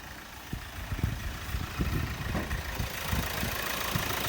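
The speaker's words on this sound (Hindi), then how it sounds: "अब खोलते हैं भाई इसका बोनट और दिखाते हैं आपको इंजन नॉइज़" A 2017 Hyundai Creta 1.6 diesel SUV idles with the bonnet open, a low, fairly quiet engine rumble with soft periodic knocks over steady background hiss.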